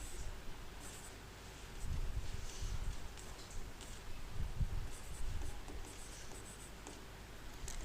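Chalk or marker scratching across a board during a Class 10 trigonometry lesson, soft intermittent strokes in irregular bursts, fairly faint against a steady room hiss, with no talking.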